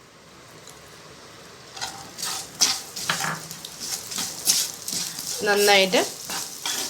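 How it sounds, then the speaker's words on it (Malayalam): Finely chopped onion fries in hot oil in a pan while being stirred, soft sizzle under scraping spatula strokes and clatter, with a brief spoken word over it. "ഇതിലോട്ട് നമുക്ക് 2 സ്ലൈസ് ഇതുപോലെ ചെറുതായി അരിഞ്ഞു വെച്ചിരിക്കുന്ന ഉള്ളി ആഡ് ചെയ്ത് കൊടുക്കാം."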